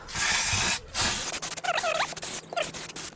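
Brake cleaner sprayed onto the brake parts of a Dacia Sandero gives two short, loud hissing bursts, followed by faint squeaky rubbing and scraping nearby.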